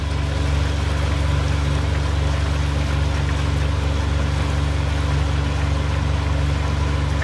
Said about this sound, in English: Here's a nice motorboat going by us called Nessie.